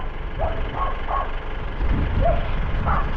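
Several short dog barks and yips, sounding at a moderate distance over steady truck engine rumble on a wet, cold rural property.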